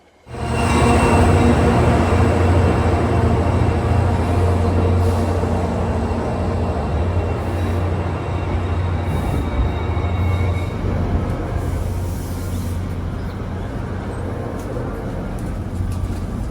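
An EMD GP40FH-2 diesel locomotive, built 1966, idles with a deep steady rumble while a Metro-North Port Jervis Line passenger train hums nearby, loud and continuous for the whole stretch, no voices.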